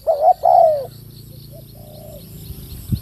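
Spotted dove cooing in the open, a few clear rising-and-falling coos close by, followed by a softer, shorter call and a faint knock.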